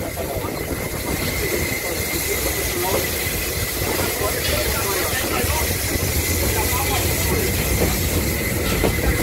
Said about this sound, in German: Und jetzt rast der Zug dahin.